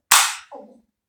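A single sharp toy gun crack, loud and close, followed by a brief rattling echo that quickly fades to silence.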